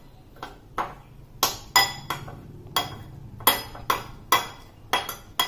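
A spoon repeatedly clinks against a bowl while chaat masala and salt are stirred in for a fireless kids' recipe, sharp close taps in an uneven rhythm, about a dozen strikes.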